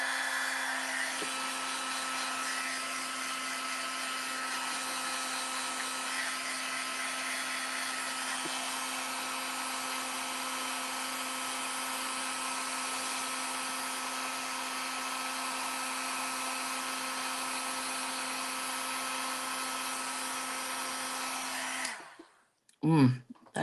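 A heat tool blows a steady, loud whooshing drone for over twenty seconds while heat-embossing a stamped Christmas card, then cuts off abruptly with a brief clatter at the end.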